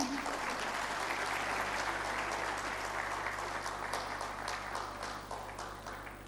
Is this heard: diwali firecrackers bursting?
no